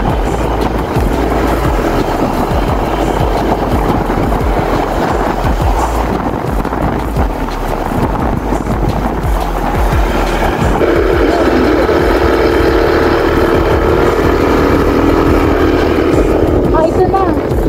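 A motorcycle engine labours up a steep uphill road near Nagcarlan, Laguna, droning loudly and continuously under heavy wind buffeting against the microphone.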